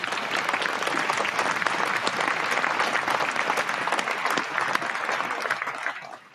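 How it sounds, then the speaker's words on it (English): Recorded crowd applause closing a podcast episode, a full even wash of clapping and crowd noise that holds steady and fades out in the last moment. "I had to let the applause play."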